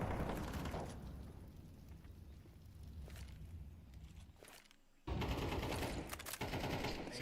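Rapid rifle fire from M4s and other rifles during a Counter-Strike esports match, sounding as dense rattling bursts of gunfire that ease briefly, then return loud and sustained, with no talking.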